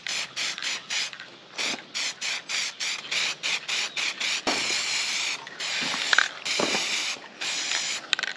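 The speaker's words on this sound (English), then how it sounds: "Going to get a quick spray job done." Rapid bursts of aerosol spray paint on a repaired part outdoors, short repeated hissing pulses with brief gaps, close and fairly loud, with no talk.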